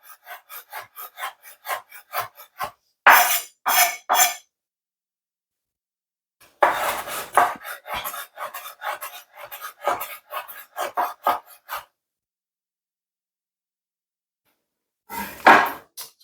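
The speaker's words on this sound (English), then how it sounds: "Make sure you slice the pickle also." A knife slices through a pickle on a cutting board, giving bursts of quick, rasping strokes in short runs separated by pauses, close and fairly loud with no talk.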